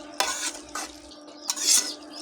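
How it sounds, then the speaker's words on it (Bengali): Cabbage with potatoes and peas stirred in a pan, a spatula scraping the metal in three quick close strokes with a faint sizzle beneath. "এখন আমি ভালো করে নেড়ে দেব,"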